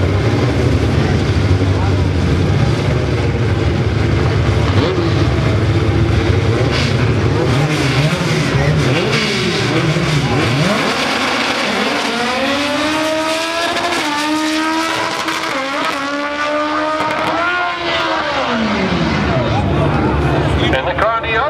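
Import cars drag racing at Englishtown roar off the line and scream down the strip, engines revving and shifting in rising and falling sweeps, with an announcer talking over crowd noise.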